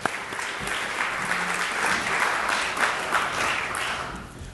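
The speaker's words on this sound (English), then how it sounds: "Let's clap for them." An audience at a CGI U conference breaks into steady applause as presenters take the stage, a full wash of clapping lasting a few seconds.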